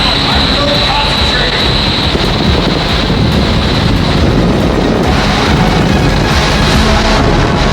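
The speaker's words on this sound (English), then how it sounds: "here is the wind tunnel that gets up to 130 plus miles an hour" A wind tunnel driven by 22 giant fans blasts air at around 130 mph, a loud, constant roaring rush with heavy buffeting against the microphone, steady throughout.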